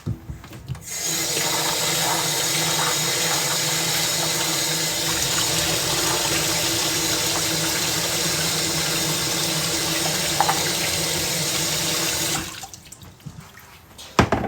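Vegetables for a Jamaican chicken back soup are washed under a running tap, a loud, steady gush of water that starts abruptly and cuts off near the end.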